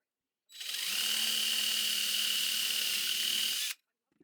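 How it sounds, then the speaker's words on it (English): A power drill fitted with an ordinary drill bit bores a hole, standing in for a spade bit; a steady, loud high-pitched whine runs for about three seconds, then cuts off sharply, with no voices. "I tried out a drill bit and that worked great"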